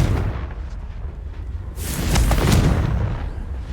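Confringo blasting spell in Hogwarts Legacy: a loud burst around the two-second mark rolls into a booming, crackling explosion that fills the rest of the moment, with no talking over it.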